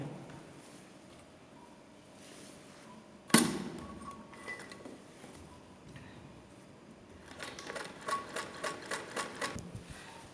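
Near the end a sewing machine stitches a fabric strip for a baby frock with a quick run of rhythmic thumps, after quiet handling noises and one sharp knock.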